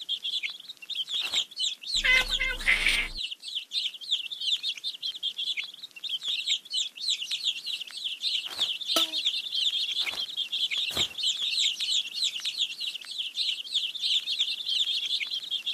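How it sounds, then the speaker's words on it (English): Hungry baby birds in a kids' number-counting game chirp in quick, bright, overlapping tweets that run throughout, broken briefly near the start by a short, louder game sound effect. "Let's feed the hungry baby birds with some seeds."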